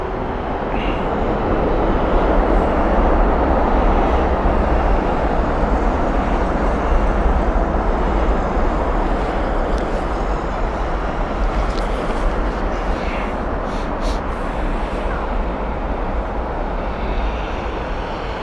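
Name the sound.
Air Canada Boeing 787-9 arriving at Heathrow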